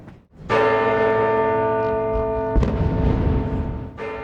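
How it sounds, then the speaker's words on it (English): A town square's clock bell rings with a loud, resonant strike and a long humming decay, then a second strike follows, with the start of a third at the end. "The clock's bell rings through the square, marking the start of a 2-minute silence."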